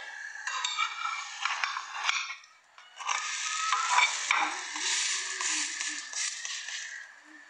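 Bara lentil patties sizzle and fry in a pan while a utensil scrapes and stirs against the metal, a steady close-up crackle with intermittent clinks as the patties are flipped.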